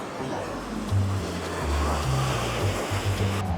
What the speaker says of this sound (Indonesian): Kalian lihat itu airnya deras banget